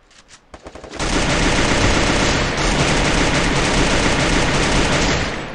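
Gunfire in the mobile battle game Garena Free Fire: a few sharp shots, then a loud, unbroken automatic barrage that runs for several seconds, close up and with no voices.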